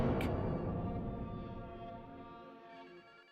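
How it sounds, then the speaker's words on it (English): A telephone rings during a video game trailer, a dense ringing tone with layered harmonics that holds steady and then slowly fades out, with no talk over it. "Could somebody take the phone call?"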